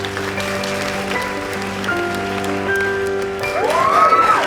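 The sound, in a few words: school assembly applause and cheering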